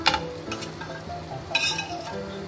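Hilsa fish pieces go into a simmering potato curry for ilish macher jhol, with a steady low bubbling sizzle, a couple of soft utensil clinks and a brief brighter splash of sizzle midway, close and without speech.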